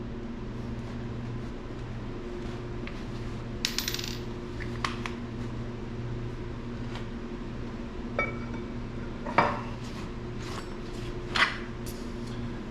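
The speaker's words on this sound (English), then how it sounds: "Time to get this flywheel put on." Metal flywheel parts and bolts clink and tap during a flywheel install on a '55 Chevy: scattered sharp metallic chinks over a steady low background hum, with no talking.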